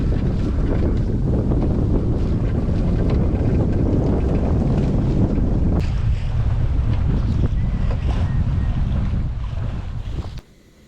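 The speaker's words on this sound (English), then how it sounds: "we're cruising along the coast with 6 knots" Sailboat cruising at about six knots along the Portuguese coast, with steady wind buffeting the microphone and water rushing along the hull, loud and continuous before cutting off abruptly at the end.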